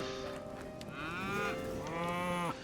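Cows in the video game Hytale give two drawn-out, close moos one after the other, clear and fairly loud with no talking.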